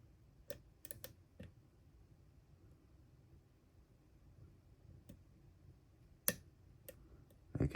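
A Paclock 90A padlock gives off sparse, faint metallic ticks and clicks as its pins are picked, scattered irregularly over a quiet background, with a few sharper clicks near the end.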